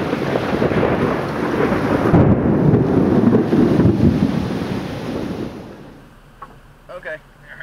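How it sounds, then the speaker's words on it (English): Heavy hail and thunderstorm rain pound a car roof and windows in a dense, roaring patter that swells loud for several seconds, then thins out, leaving a few scattered knocks at the end. "Oh wow, that is pretty big hail."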